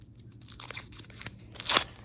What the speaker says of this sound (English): I'm going to use a good paper scissors